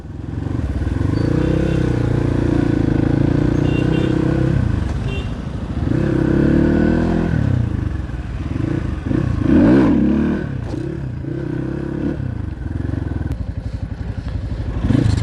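A motorcycle rides toward Dhulikhel with a steady, close engine drone that rises and falls as the rider shifts and accelerates, mixed with some clattering and wind.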